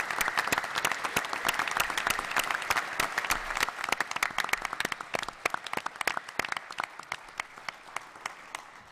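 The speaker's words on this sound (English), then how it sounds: "I just don't think we can go too much farther without a round of applause for Art" A conference audience applauding at an energy efficiency event, a sustained wash of many hands with sharp individual claps standing out, gradually thinning toward the end.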